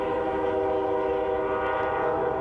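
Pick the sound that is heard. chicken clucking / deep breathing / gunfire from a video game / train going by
train going by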